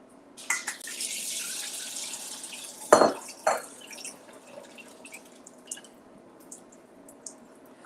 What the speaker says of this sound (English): I'm gonna pour this into the sink in the strainer first